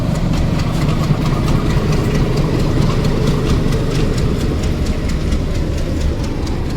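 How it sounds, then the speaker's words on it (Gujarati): A meter-gauge train locomotive on the Junagadh–Una line through the Gir forest rumbles loudly and steadily nearby as it moves along the track, a deep continuous drone with a faint rhythmic throb. "આપણું એન્જિન હવે ઓલી બાજુ જઈ રહ્યું છે."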